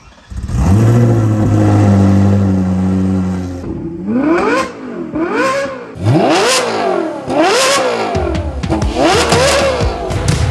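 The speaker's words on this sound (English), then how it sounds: "we're going to end this with Kevin kicking off this expensive exhaust on his 458" A Ferrari 458 with an aftermarket exhaust holds a loud, steady high rev, then blips repeatedly in sharp rising and falling bursts, close and unaccompanied by talk.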